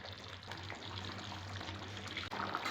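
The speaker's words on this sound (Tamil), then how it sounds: "கொஞ்சம் தண்ணி ஊற்றி கொதிக்க விடுவோம்." Water being poured into a pot of simmering vegetable curry, a soft continuous trickle and splash running for a few seconds against a low kitchen hum, alone without speech.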